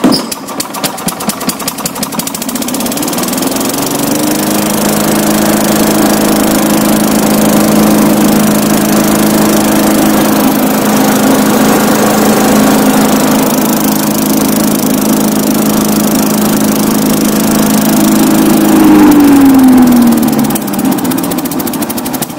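A Craftsman 4-in-1 leaf vacuum's small engine, restarted after sitting unused: a few sputtering pulses, then a loud, steady, close idle hum that holds for about twenty seconds with a brief rise in revs near the end.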